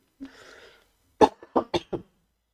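A breathy intake of air, then a fit of coughs: one harsh cough followed by three quicker ones, close and alone.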